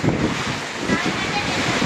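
A fierce windstorm with rain lashes Nellore, a steady loud roar of gusting wind and downpour filling the whole stretch without letup, with faint voices mixed underneath.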